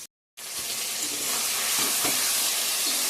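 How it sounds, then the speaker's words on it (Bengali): Chicken for a Bengali chicken curry being fried and stirred in a pan, with a loud, steady sizzle that starts suddenly after a brief silence and carries on with a few soft scraping stirs. "মাংসটা কষানো হচ্ছে এদিকে।"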